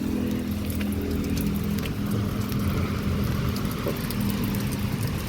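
Heavy rain pours down during a storm in Laos, a steady dense hiss of drops on surfaces with a constant low rumble, unbroken throughout and with no voices.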